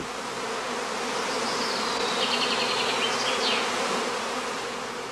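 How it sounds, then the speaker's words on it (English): Honeybees swarming around a catching skep in the northern German heathlands make a dense, steady buzz that hums close by without pause, with no voices over it. "On the branches, swarming bees soon form a new cluster again."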